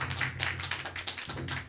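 Audience applause at a Buddhist lecture, quiet, rapid patter of hand claps from a small gathering, lasting under two seconds.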